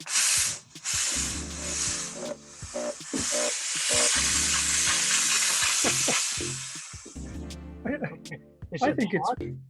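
A steam cleaner hisses a steady, loud jet of steam for several seconds, up close with a spraying, sizzling texture, then cuts off as people start talking.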